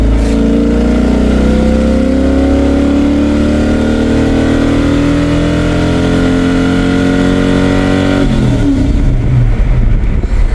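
A Mustang with a swapped-in 351W V8 pulls hard in second gear, its loud engine note climbing steadily in pitch for about eight seconds before cutting off into rougher, lower rumbling; no one talks.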